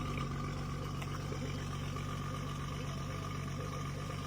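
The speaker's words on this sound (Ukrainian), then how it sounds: "Заводиться з півоберту двигун. Гарний, має басистий звук вихлоп." A 2012 BMW X5 E70 xDrive35i engine idles steadily with a low, bassy exhaust rumble, constant and close throughout.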